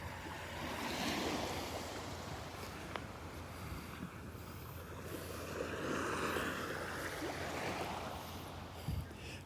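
Ocean waves on the beach at Delnor-Wiggins Pass State Park on a morning walk, a continuous soft surf wash swelling and receding with some wind rumble, and no speech.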